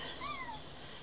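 A cat lets out one short, faint meow over a steady background hiss.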